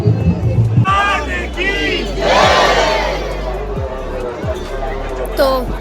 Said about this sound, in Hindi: रश देख रहे हो भाई, रश।